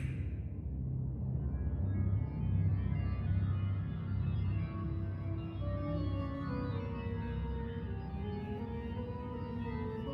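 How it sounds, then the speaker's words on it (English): A breathy flute melody from the Reaper flute in the Dragon Quest game Infinity Strash, drifting over a dense low backdrop of game music, moderately quiet and continuous with no talking. "That sound, that's the sound of the Reaper flute."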